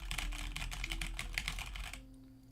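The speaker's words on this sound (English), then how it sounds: "So if I type on my keyboard right now" Rapid clicking of keys being typed on a computer keyboard, close and steady for about two seconds before stopping abruptly, with a low hum underneath.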